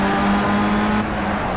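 Race cars launch off the line at the start of a Project Cars race, a loud, dense engine drone with a steady pitched tone held throughout.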